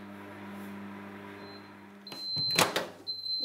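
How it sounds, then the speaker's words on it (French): Microwave oven running while heating food, a steady low hum for a couple of seconds, then a tone and a few clicks and clunks of the door or controls nearby. "il faut les filmer et les passer 2 fois 30 secondes au micro-ondes"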